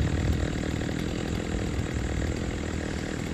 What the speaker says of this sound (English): If I'm being honest, I like the chainsaw.